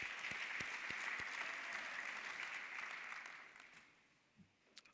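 Delegates at a national congress applaud: a soft, distant wash of crowd clapping that fades away near the end, leaving a couple of faint thumps.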